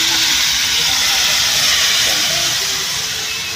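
Sardines sauté in a hot pan, giving a loud, steady hiss of sizzling oil that fades slightly toward the end.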